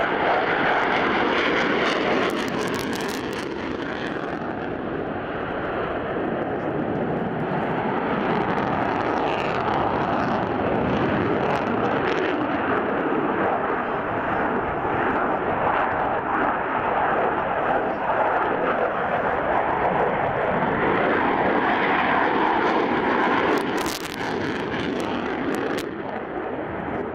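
Sukhoi Su-27 Flanker jet fighter flying at an air show, a loud sustained engine roar that rises and swells, close and steady for the whole stretch with no talk heard.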